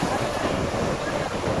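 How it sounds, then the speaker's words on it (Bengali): Sea waves wash over a pebble beach in Diu, a loud, broadband rushing surf mixed with wind buffeting the microphone, continuous for a brief moment without clear speech. "ভালোই দেখুন ঢেউ রয়েছে।"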